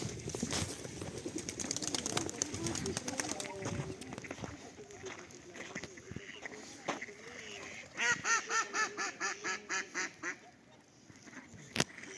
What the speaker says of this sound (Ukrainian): Качки, гуси всі між собою.